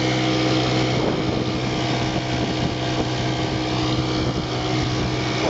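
A 1940 Bendix Eclipse twin outboard motor pushes a boat along in a steady, loud, droning engine run, with wind rushing across the microphone and no voices.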